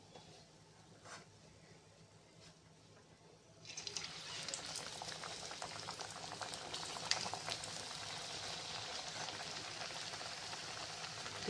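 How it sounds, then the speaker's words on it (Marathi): Puris frying in hot oil for a spicy Aashadh-special fried puri, a quiet faint bubbling at first that turns into a steady, dense sizzle and crackle from about four seconds on. "सर्व पुऱ्या ज्या आहेत ते आपण अशाच आता तळून घेऊया"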